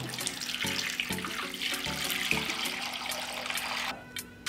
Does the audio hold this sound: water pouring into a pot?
yes